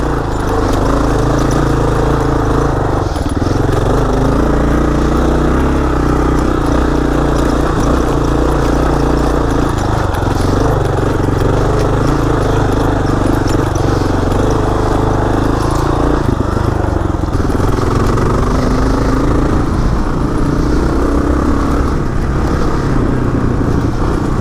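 Motorcycle engine idling steadily through a new, quieter aftermarket exhaust, a continuous low rumble that stays close and even for the whole stretch with no talk.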